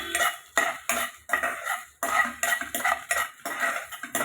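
Cinnamon and cardamom are dry-fried in a pan without oil, producing repeated rhythmic scraping and rattling as a utensil stirs the whole spices against the metal. The strokes are close and fairly loud, and no one speaks.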